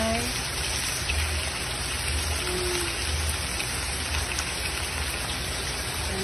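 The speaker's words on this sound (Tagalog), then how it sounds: "medyo maingay talaga kasi umuulan" Steady heavy rain falls outside a kitchen where chicken curry is being cooked, a dense, constant hiss with faint low rumble throughout, fairly quiet and uniform with no distinct drops standing out.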